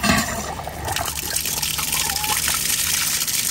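Cold water runs from a Woodford hot and cold frost-free hose faucet, a steady hissing, splashing stream that starts with a gush and continues close by without a break.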